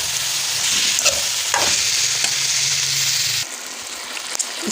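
Chicken pieces sizzle loudly in hot oil and spices in a kadai pan while being stirred, with scraping spoon strokes and a steady frying hiss that drops slightly near the end, close up and with no talk.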